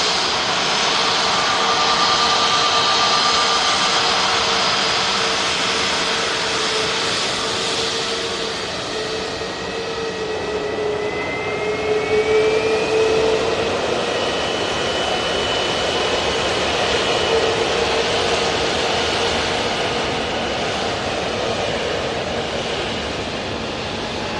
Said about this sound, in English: Another aircraft on the way in.